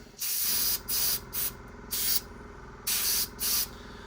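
Airbrush spraying white paint onto wires, heard as six short hissing bursts of close, steady spray separated by brief pauses.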